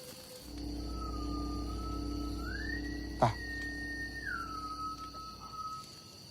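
A single long whistled tone, villagers whistling at night, rises and falls slowly, sustained against a quiet humming background, with one brief sharp click midway.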